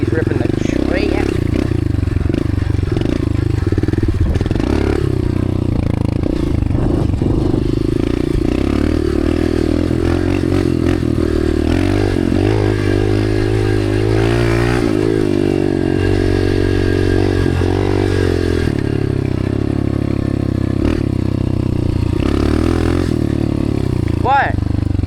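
A dirt bike riding a track with wheelies, engine revving up and down continuously with rising and falling pitch, mid-distance, with voices speaking over it at times.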